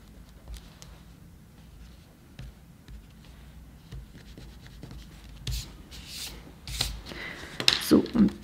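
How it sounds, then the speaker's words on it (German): Pencil lines rubbed out with an eraser on a handmade Christmas card, soft scratchy rubbing strokes that grow louder and more rapid toward the end, under quiet background noise. "Dann radieren wir hier die Striche kurz noch wieder aus."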